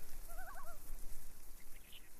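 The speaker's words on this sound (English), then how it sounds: "We have ducks, loons," Wild birds call outdoors in the Canadian wilderness by a fishing lake, with ducks and loons among them: a cluster of warbling, yodel-like calls early on, then a few higher chirps later, against a steady outdoor hiss.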